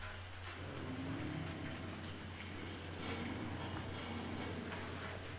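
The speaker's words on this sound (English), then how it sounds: "And it's raining blood!" Steady rain hiss falls through a horror game level in Outlast 2, with a constant low hum beneath it and faint scattered taps, filling the whole stretch without talk.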